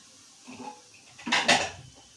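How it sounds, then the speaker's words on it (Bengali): A spoon clinks and scrapes in a cooking pot in a short stir, followed by a louder clatter as meat goes in, brief and close. "এবার একটু নেড়ে মাংসগুলোকে দিয়ে দেবো।"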